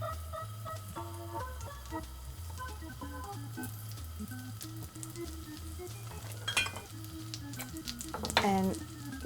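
Courgette fritters in batter sizzle and fry in a pan, a steady close crackle with a low hum beneath and a few clinks of utensils near the end.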